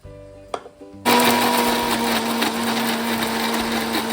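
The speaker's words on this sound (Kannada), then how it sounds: "ಫಸ್ಟ್ ಕಾಯಿ ಪುಡಿ ಮಾಡ್ಕೊಳ್ತೀನಿ." A mixer grinder whirs to life after a quiet moment with a small clatter, then runs steadily and loud, grinding coconut into powder for a goat head curry masala.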